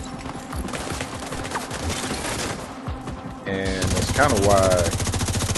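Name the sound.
Vector gun firing in a video game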